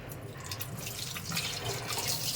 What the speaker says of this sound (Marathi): मला हात धुऊ दे.